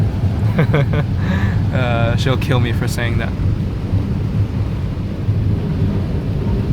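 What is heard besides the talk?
heavy rain pouring with thunder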